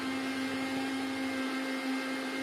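A kitchen mixer blends banana with milk, giving a steady, even motor whine that holds at a constant pitch for the whole stretch, close and fairly loud with no talk.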